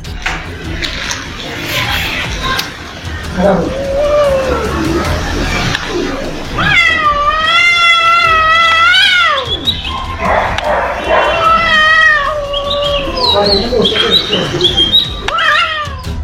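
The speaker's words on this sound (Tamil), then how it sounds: "இங்க குரங்கு ஒண்ணுக்கும் வீட்டு பூனை ஒண்ணுக்கும் நடுவுல நடந்த காமெடியை பாருங்க." A house cat fighting a monkey lets out long, loud, wavering yowls and meows, drawn-out caterwauling cries rising and falling in repeated bursts, with harsher squawking scuffle noises between them.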